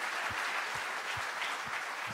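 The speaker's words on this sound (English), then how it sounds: "let's have a big, big round of applause for all 4 of them" A crowd applauds steadily, a dense wash of clapping with a few low thumps, moderately distant and without voices.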